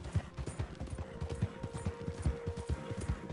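Horse hooves from the Red Dead Redemption 2 video game clop in a steady, close rhythmic gait for the whole stretch, with no talking over them.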